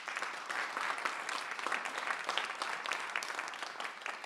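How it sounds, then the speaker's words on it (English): An audience at a spoken word event applauds, a steady, moderately distant wash of many hands clapping that continues throughout without letting up. "A round of applause,"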